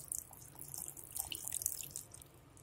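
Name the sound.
adding water to vegetable cream soup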